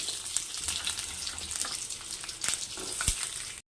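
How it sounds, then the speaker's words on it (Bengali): Moringa drumsticks and potato pieces fry in hot oil tempered with nigella seeds, giving a steady bright sizzle with occasional crackles and stirring, close and moderately quiet, with no talking. "সজনে ডাঁটা আর আলুগুলোকে দিয়ে দেবো। দিয়ে আমি এগুলোকে একটু ভাজা ভাজা করে নেবো।"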